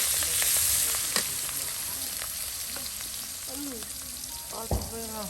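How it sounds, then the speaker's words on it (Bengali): Onions and green chillies fry in oil in a village kitchen, making a loud, continuous, close sizzle with a few faint clatters and background sounds over it. "পেঁয়াজ কাঁচামরিচ তেলে দিয়ে দেওয়া হলো।"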